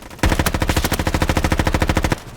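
Rapid automatic gunfire from a large-magazine weapon in a Roblox shooting game, one sustained burst of about two seconds with evenly spaced loud shots, close and alone.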